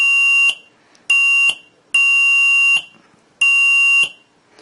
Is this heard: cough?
no